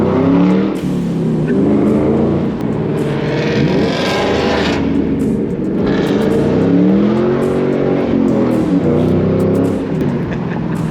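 A Ford Mustang being driven with friends on the way to Skyline Park, its engine a steady, loud, continuous drone with rising and falling revs, heard from inside the car with no talking.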